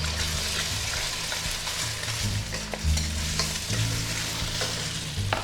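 Eggs and Chinese sausage fry in a hot pan for fried wonton rice, giving a steady sizzle with stirring scrapes and a few clatters throughout, no talk.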